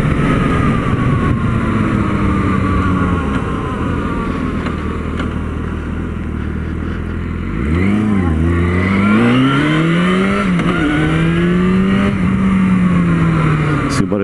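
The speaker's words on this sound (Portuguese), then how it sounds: "Esse barulho dessa moto é gostoso de ouvir" A Yamaha FZ6 motorcycle on its original exhaust, first droning at steady speed, then dropping and climbing again as the engine revs through the gears, loud and close throughout.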